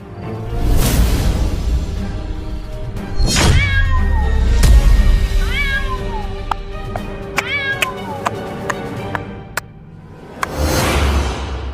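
A cat meows several times in rising and falling cries, mixed with whooshes, sharp chops and other loud effects, while children's voices and play noise come and go.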